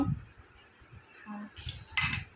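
Spoons and dishes clink while bowls of Maggi noodles are served, a few light metallic taps scattered over a couple of seconds and getting brighter near the end, with quiet household sounds beneath.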